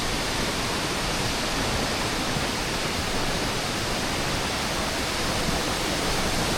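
A waterfall at Big Burn Walk in Scotland pours in a steady, loud, dense broadband rush, continuous and close with no pauses and no voices.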